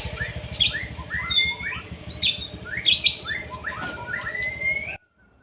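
A white-rumped shama (murai batu) sings at a bird-singing venue: rapid, bright whistled phrases and chirps, clear and fairly near, repeating over a low steady hum before stopping abruptly.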